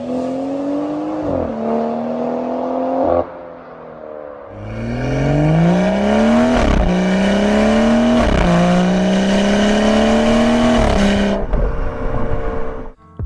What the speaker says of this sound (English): my car already kind of makes the shift noises even without the setting on